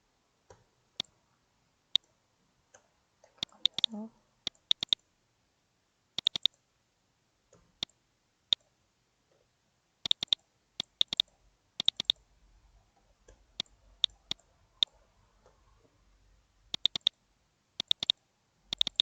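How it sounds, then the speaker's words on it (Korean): A computer mouse double-clicks again and again while working in SketchUp, giving crisp, close, paired clicks in irregular bursts separated by quiet pauses, with faint desk handling noise in between. "더블 클릭 당겨가면서"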